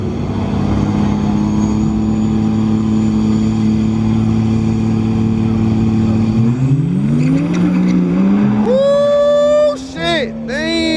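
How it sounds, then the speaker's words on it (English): A diesel farm truck engine at a race track, idling with a deep steady rumble, then revving up in a rising climb before dropping off and surging again, while people talk nearby. "Oh yeah, that's a diesel, yeah."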